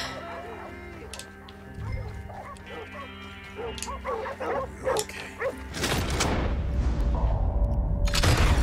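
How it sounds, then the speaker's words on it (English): Dogs bark in a Red Dead Redemption 2 game scene, several short barks mixed with clucking fowl and game ambience, followed by a loud burst of noise near the end. "There's mangy dogs."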